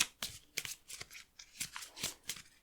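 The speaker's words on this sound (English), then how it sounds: "Okay, so I'm shuffling up the death deck right now." Cards being riffled and bridged in a series of quick, crisp bursts, several shuffles in a row, close up with no talking.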